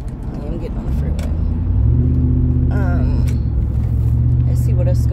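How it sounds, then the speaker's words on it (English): A car merges onto a freeway, its engine rumble building and holding steady as it accelerates, with road and wind noise underneath and brief faint sounds over the top. "I am getting on the freeway."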